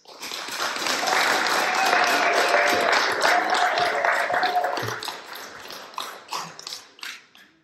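A lecture audience in a college theater applauds to welcome artist Wesley Wright: steady, full clapping from a crowd for about five seconds, then thinning into scattered claps that die away.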